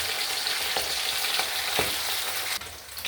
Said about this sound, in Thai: ขอเป็นทอดกรอบๆหน่อย